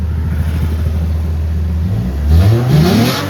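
Car engine revving hard through an aftermarket exhaust fitted with resonators after running a straight pipe, a steady deep idle rumble climbing into a loud rising rev near the end, close and alone.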